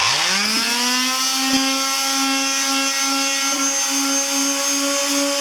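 A power sander with 120 grit sandpaper works a part of a 1983 Honda CB1000 C Custom motorcycle, spinning up at the start into a steady, loud, high-pitched motor whine that holds throughout.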